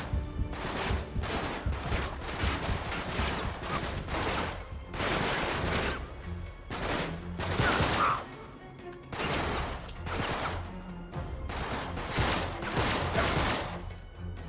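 Rapid bursts of gunfire in the video game Uncharted 3, repeated volleys of shots fired in quick succession with brief gaps between them, loud and close throughout.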